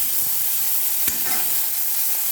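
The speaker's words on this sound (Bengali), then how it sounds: "তারপর মাছটাকে কিন্তু আমি হালকা করে একটু ভেজে নেব" Fish being lightly fried in a pan for moya fish paturi, a steady soft sizzle of hot oil with a single stir or scrape partway through.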